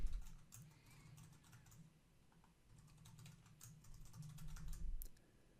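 Password being typed on a computer keyboard, a quick run of soft, close clicks in short bursts with brief pauses between them, no talking.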